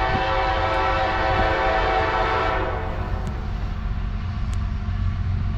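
CSX manifest freight train M404 rolls past on track 1, a loud sustained rumble of railcars with a horn blast tone early on, fading slightly but continuing steadily to the end.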